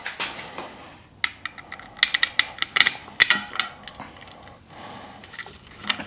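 Metallic clinks and ratcheting clicks sound as a bolt goes in while a 4-speed transmission is mounted to a small-block engine, a burst of sharp taps and scrapes close up that fades toward the end.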